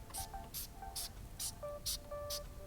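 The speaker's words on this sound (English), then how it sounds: "Then I will spray all the welding seams" Leak-test liquid is sprayed onto the welding seams of a pressurised pipe fitted with a ball valve, in six short, evenly spaced hissing bursts over a faint background hum.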